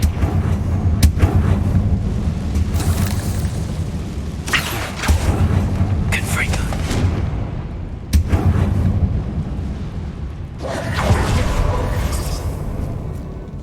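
Confringo fire spell blasts from Hogwarts Legacy: several heavy, booming explosions with rumbling tails, recurring every couple of seconds over a constant loud background of game music and ambience.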